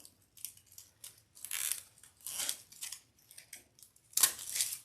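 Scissors snip off the end of a plastic zip tie among decorative tree greenery, a series of close, crisp cutting and rustling sounds in short bursts.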